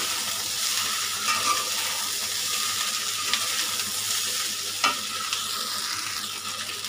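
Pre-fried beef is stirred in a hot pan over high heat, with a loud continuous sizzle and scattered scraping clicks of the utensil, without any speech.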